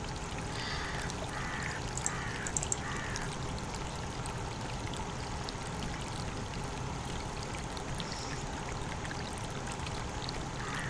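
Crows caw loudly in a short burst of repeated harsh calls, then a few scattered ones follow. A steady rushing, stream-like background runs underneath throughout.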